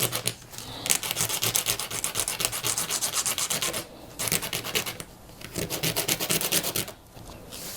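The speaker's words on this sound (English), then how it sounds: "I will use a bit of sandpaper" Sandpaper rubbed back and forth on a wooden part of a Precision Bass guitar kit, rounding it off: steady rasping strokes in close, rhythmic bursts with two brief pauses, no talk.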